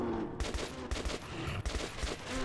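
Gunfire in the shooter game Metro 2033 Redux: a quick string of loud automatic bursts, about five or six clusters in a row with brief gaps, the fire close and dominant.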